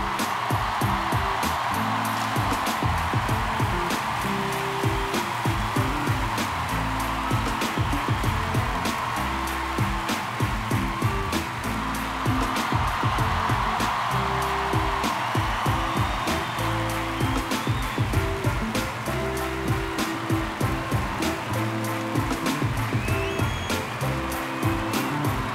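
A large concert crowd at a show roars and cheers in a dense, continuous wall of noise, with music pulsing steadily underneath throughout.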